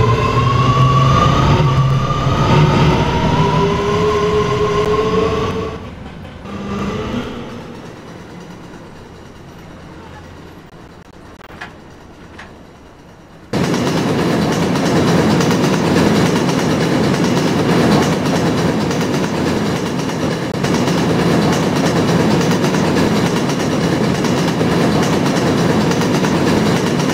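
An R211A E subway train on a New York line underway, loud continuous rumble with clickety-clack and tonal whine, easing to a quieter lull midway before the roar abruptly returns at full strength.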